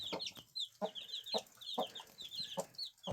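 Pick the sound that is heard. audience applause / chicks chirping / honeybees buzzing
chicks chirping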